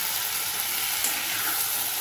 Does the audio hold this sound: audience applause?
no